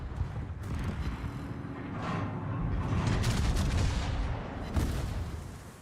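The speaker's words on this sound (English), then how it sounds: "Secondaries firing off on both sides of me." Secondary guns booming on both sides of a warship in World of Warships, a dense run of overlapping cannon blasts and rumbling impacts at moderate loudness, rolling continuously with a few sharper reports.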